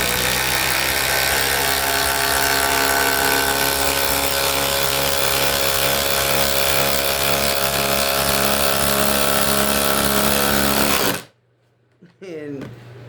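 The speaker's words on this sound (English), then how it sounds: "Ridgid impact driver is gonna drill this all the way down." A Ridgid 3-speed brushless impact driver drives a nut down in one continuous loud, buzzing hammering run lasting about eleven seconds, then stops abruptly, leaving a short quiet tail with faint handling noise.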